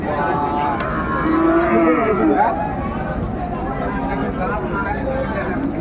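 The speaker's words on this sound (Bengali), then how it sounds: "অসাধারণ গরুগুলো খুব সুন্দর কোয়ালিটি" Cattle at a Shahiwal bull market moo in a long, loud call over a steady murmur of crowd noise and livestock, followed by fainter lowing in the background.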